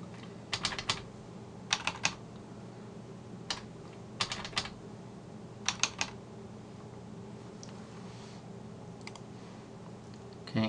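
Typing a username and password on a computer keyboard, heard as irregular bursts of quick key clicks separated by short pauses over a steady low hum, with no talking.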